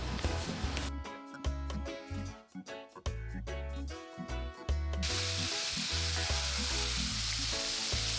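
Jamaican fried chicken sizzling in hot oil in a pan over an outdoor wood fire, a steady close crackle that swells into a broad, loud hiss after a lid is set on.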